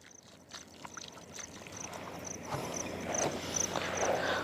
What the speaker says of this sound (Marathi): आणि आता त्याला पाणी देऊ